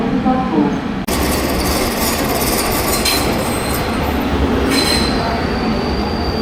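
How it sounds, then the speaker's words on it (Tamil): Metro train in Greece running on rails, a loud steady rumble with wheel squeal and rail noise filling the whole stretch after a sudden onset, close and continuous. "இந்த மெட்ரோலாம் பாருங்களேன் எப்படி இருக்குன்னு."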